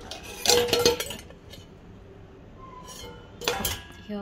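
Dishes, pots and cutlery clatter as they are loaded into a dishwasher, giving close clinks and knocks in two bursts separated by a quieter pause.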